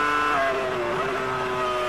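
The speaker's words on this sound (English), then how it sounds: "That Ferrari engine wailing past, and Barrichello continues round" A Ferrari Formula One car in practice at the 2002 French Grand Prix wails past a camera mounted in the trackside kerb. Its high engine note drops in pitch as it goes by, loud and close, with no voices.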